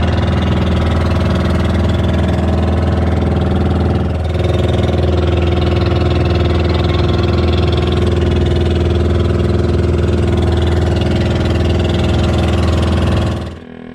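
A small boat engine drones steadily and loudly throughout, chugging evenly with little variation before cutting off at the end.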